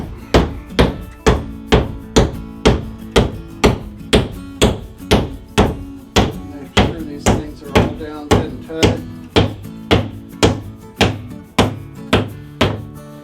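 A big hammer driving fasteners to secure upholstery fabric onto a tabletop panel, about two dozen sharp, evenly spaced blows ringing close and loud, each with a brief woody resonance.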